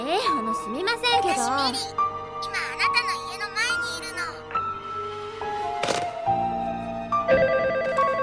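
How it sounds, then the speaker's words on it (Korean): A telephone rings repeatedly amid busy music and overlapping tonal sounds, with chiming notes and effects layered over the ring. "연달아서 계속 걸려오는 전화"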